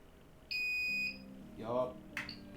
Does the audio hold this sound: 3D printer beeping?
yes